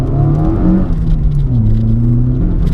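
Modified MK4 VW Golf accelerating hard through first and second gear, the engine note rising, dropping at the shift and climbing again, loud and close from inside the car.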